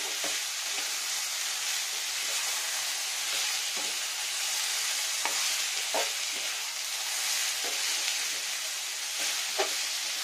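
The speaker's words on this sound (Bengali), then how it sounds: "এবার এটাকে ভালো করে কষিয়ে নেব," Spiced mixture with turmeric and salt frying in a pan, a steady close sizzle broken by regular scraping stirs, with no talking.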